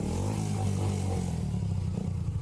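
A motorcycle engine revs hard for a short burst, its low, steady growl close and loud before fading slightly, with no talk over it.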